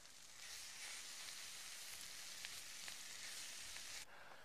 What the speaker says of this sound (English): And give it all a good old stir.